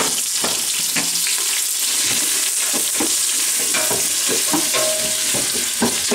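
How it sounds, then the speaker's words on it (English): Onions sizzle in hot oil over a medium flame in a sauce pot, caramelizing for a spinach and artichoke dip. A loud, constant frying hiss runs throughout, with stirring scrapes and clatters. "heat up about 2 ounces of oil over medium flame, and we're going to add our onions. We're going to caramelize them."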